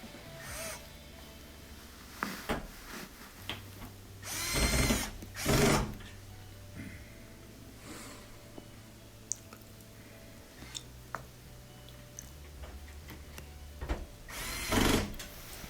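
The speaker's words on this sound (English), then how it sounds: "then we'll add those 2 Phillips head screws" Two short Phillips head screws are driven into the front panel of an LG washer, with a few short bursts of a small power driver among faint clicks and handling noises in a quiet room.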